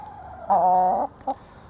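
A hybrid laying hen gives a drawn-out, wavering cluck followed by a short, quieter second cluck, close by with no talking.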